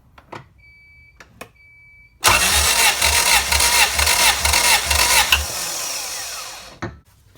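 A Honda B17 engine in a CRX cranks over on the starter during a cylinder compression test. The loud, rhythmic churning runs for about three seconds after a few faint clicks, then winds down and stops.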